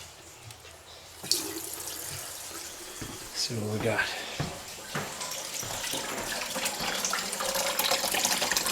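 Water gushes from a tap in a steady, rising rush, close and continuous, while someone talks briefly over it.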